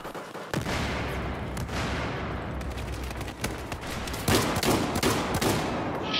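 Dense, continuous gunfire from Battlefield 4 fills the whole stretch, a loud, overlapping barrage of rapid shots with sharp cracks punching through, heavier bursts near the end.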